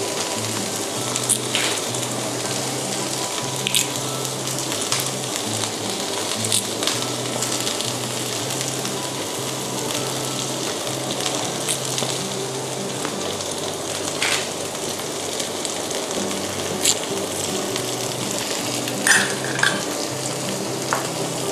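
Red curry paste with torn kaffir lime leaves stir-fried over lowered heat for spicy crispy fried catfish, giving a continuous loud sizzle with scraping stirs and spatula taps in the pan, close up and without talk.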